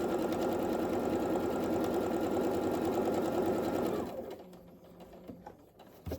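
A sewing machine stitches fabric for a DIY cover with pockets, a loud, steady rapid whirr of stitching for several seconds that winds down and stops, followed by quiet handling clicks.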